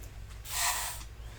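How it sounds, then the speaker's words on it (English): A WD-40 silicone spray aerosol in a black can gives one short, steady hiss of about half a second into a paint cup used for acrylic pouring, close and fairly loud over a quiet low hum. "I'm going to spray this cup though so I can get all the paint out"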